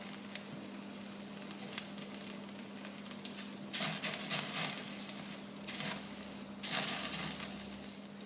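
Beef fat sizzling as the meat cooks on wooden staves, a steady soft crackle and hiss with a low hum beneath and a few louder spitting bursts.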